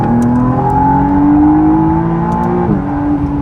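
A McLaren with a brand-new 8-speed twin-clutch gearbox accelerates hard, its engine note rising steadily and then dropping sharply on a quick upshift, loud and close throughout with no talking.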